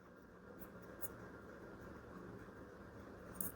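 Pen writing on paper in a steady, continuous scratch, quiet and close, with a couple of faint brief ticks and no voices.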